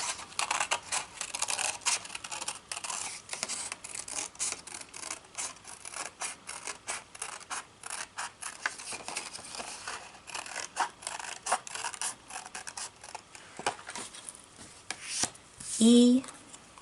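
Scissors snipping through paper in a steady run of short crisp cuts, close and fairly quiet, during a letter E craft activity.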